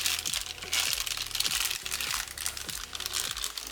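Packaging for NAS hard drives is handled and opened close by, giving a quiet run of crinkling plastic with sharp crackles and rustles. There are repeated small clicks and taps, and faint voices can be heard in the background.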